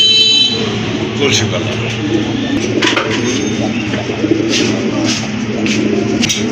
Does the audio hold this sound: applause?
no